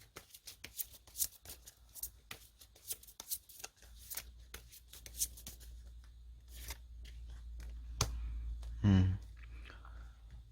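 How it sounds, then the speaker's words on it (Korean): Tarot cards being shuffled and drawn at close range, quiet rapid flicking and riffling that settles into a few soft taps and a short slide as a card is pulled, with no talking. "끝으로 에필로그 카드, 행운 카드로 한 장 뽑아 보면은요"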